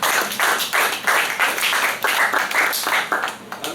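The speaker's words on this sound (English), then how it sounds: "Thunderous applause." Audience claps after a talk presentation, a fairly small group's applause heard close and steady in pulsing bursts, fading slightly at the end.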